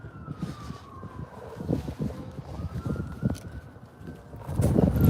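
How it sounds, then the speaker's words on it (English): An ambulance siren wails faintly in the distance, its tone sliding steadily beneath traffic rumble and outdoor noise. "No, that was an ambulance."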